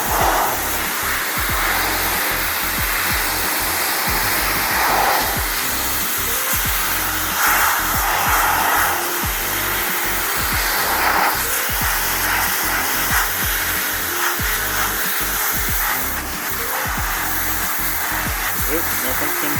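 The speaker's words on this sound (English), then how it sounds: "we've got a nice sunset and the main board on a crate with a pressure washer" A pressure washer blasts a computer main board resting on a crate outdoors at sunset, making a loud continuous hiss and spray roar with a pulsing motor drone underneath that holds steady for the whole stretch.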